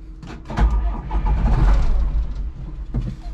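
A Caterpillar wheel loader bought at auction with serious issues cranks and turns over, a loud low rumbling churn building for a couple of seconds and then easing, close by.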